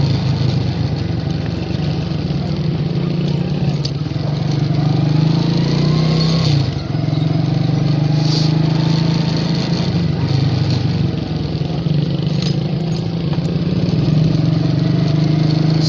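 A water pump engine running near a canal and railway line in the Taxila area, a loud, steady droning hum that continues unbroken throughout.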